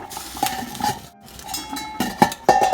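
A metal lid clatters onto a cooking pot of stuffed zucchini and yellow squash in a home kitchen, with several sharp clinks and scrapes close by, no talk.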